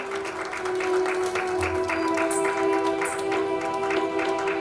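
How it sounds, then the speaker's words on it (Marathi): A church congregation in Chinchwad, Pune claps hands together in praise during worship, a busy rolling patter of many hands over a sustained tone. "टाळी वाजवून आपण परमेश्वराचे आभार मानूया."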